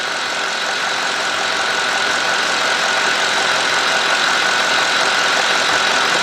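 A Cadillac engine idles steadily after warm-up, a continuous mid-pitched drone with a faint uneven roughness, heard alone at close range throughout.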